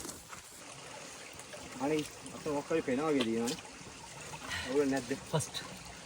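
Water trickles steadily at a rest stop on a multi-day hike in the Knuckles range, a soft constant wash running beneath several bursts of nearby conversation.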